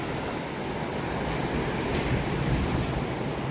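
Ocean waves wash onto a beach at night, a steady, dense roar of surf that carries without a break and swells slightly toward the end.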